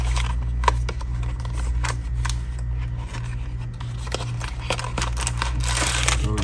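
Plastic packaging around a Spigen Ultra Hybrid Red Crystal iPhone 13 Pro case being opened, close crinkling and sharp snipping clicks scattered over a steady low hum, with no talking.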